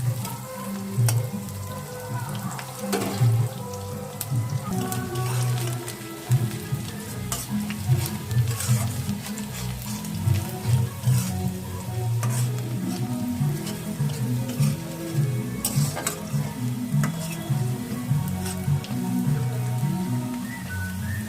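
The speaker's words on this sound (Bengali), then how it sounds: "পেঁয়াজটা একটু লাল করে ভাজতে হবে।" Sliced onions frying in a pan until reddish-brown for a chicken dish, giving a continuous close sizzle with crackling pops throughout, no talking.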